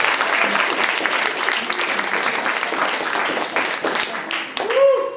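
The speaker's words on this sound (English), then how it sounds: "give those survivors another round of applause" An audience at a live comedy spring show claps in a sustained, lively round of applause, loud and close, with a brief vocal whoop rising over the clapping near the end.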